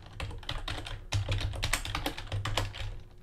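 Rapid typing on a computer keyboard while entering code for a top-down action adventure game, a close, steady run of clustered key clicks with no voice over it.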